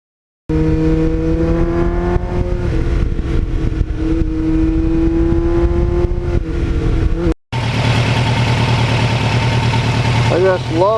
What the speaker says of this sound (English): I just love the way that engine runs.